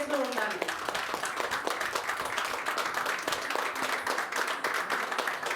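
Audience clapping at an Ayurveda book release event, a moderate steady patter of many hands heard at middle distance, with a brief voice at the very start.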